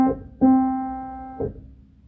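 Morse code for OK, the letter O as three dashes and K as dash dot dash, played as steady buzzy tones. A few long beeps run back to back, clear and alone, with no talking over them.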